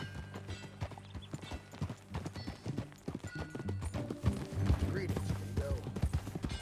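Horse hooves clip-clop steadily in Red Dead Redemption 2 as riders set off from a ranch, the rhythmic hoofbeats carrying under game music with a brief whinny and some speech.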